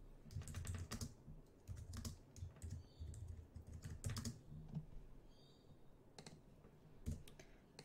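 Quiet, rapid typing on a computer keyboard, keys clicking in uneven bursts with short pauses between them.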